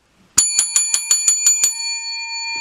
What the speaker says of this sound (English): multiple hits on the bell